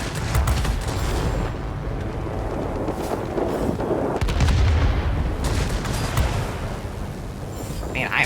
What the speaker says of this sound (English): four 20mm cannons instead, just kind of punching holes in the planes a little bit